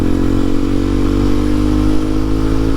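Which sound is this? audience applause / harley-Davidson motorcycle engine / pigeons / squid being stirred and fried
harley-Davidson motorcycle engine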